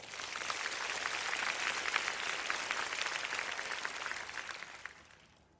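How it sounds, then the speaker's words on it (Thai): Warm audience applause at a Thai one-man comedy show swells quickly, holds steady for several seconds, then tapers off and fades near the end, with no talking over it. "ถ้าอยากฟังขอเสียงปรบมือด้วยครับ"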